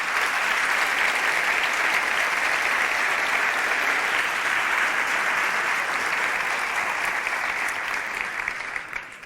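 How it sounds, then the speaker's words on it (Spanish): Loud, steady applause from a concert-hall audience for the theatre staff at a gala concert, dense clapping filling the whole stretch and fading slightly at the end. "Un aplauso para todos ellos."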